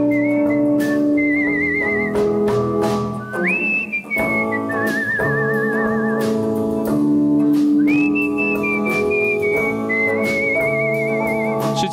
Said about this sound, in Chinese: 音楽としての口笛を一生懸命吹くようになりました